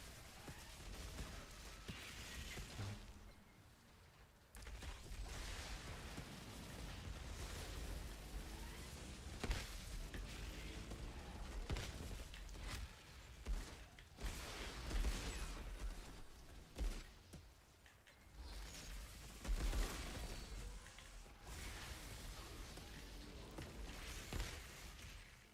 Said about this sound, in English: Ooh, nice explosions.